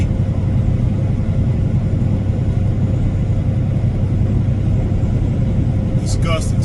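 A car driving along, heard from inside as a loud, constant low road and engine rumble, with a brief higher-pitched sound near the end.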